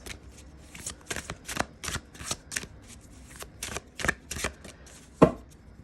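Botanical Dreams oracle cards are shuffled by hand in a quiet room, producing a run of crisp, irregular riffling slaps and flicks that end in one sharper tap.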